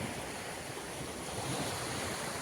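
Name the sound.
sea waves on the shore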